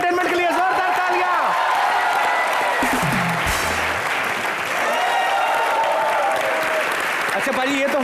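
The studio audience of the Hindi comedy show Comedy Nights With Kapil claps loudly and steadily for several seconds, with cheering voices and a host talking in Hindi over the continuous applause.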